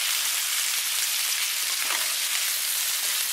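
Brussels sprouts and onions cook in a hot pan with a steady, close, even sizzle and hiss, and no voices over it.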